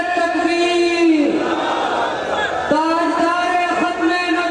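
A large crowd at an outdoor religious gathering shouts back in unison, a loud, sustained roar of many voices that swells and then gives way to a single voice calling out.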